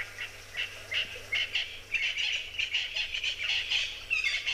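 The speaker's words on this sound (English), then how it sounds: "I think it's an Natal spurfowl, but I'm not 100 on that" A Natal spurfowl calls at sunset at an African safari waterhole, giving a series of rapid, harsh, high chirping bursts that repeat irregularly at moderate distance against a quiet background.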